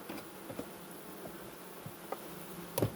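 Carniolan honey bees buzzing around an open hive while the colony is readied for winter, a faint, steady, close hum with a few brief louder wingbeat bursts near the end.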